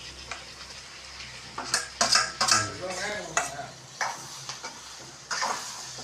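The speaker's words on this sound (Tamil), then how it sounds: "இப்போ தக்காளி நம்ம வந்து நல்லா வதக்க போகிறோம்" Tomatoes and onions sauté in a pan, with a soft continuous sizzle broken by loud, irregular scrapes and clinks of a spoon stirring against the metal.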